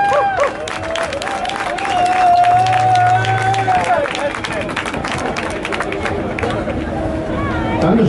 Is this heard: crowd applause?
yes